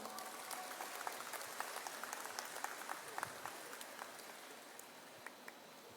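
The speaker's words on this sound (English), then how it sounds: "Can we please have another round of applause for him?" Audience applause at a university convocation ceremony, heard faint and distant as a soft continuous patter with scattered sharper claps standing out, steady throughout with no talking over it.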